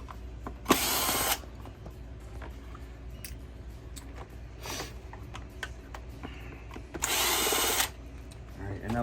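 A power drill drives out the screws holding the motor cover on a Hoover Spin Scrub shampooer, with two loud whirring bursts under a second long, separated by quieter handling clicks and room noise.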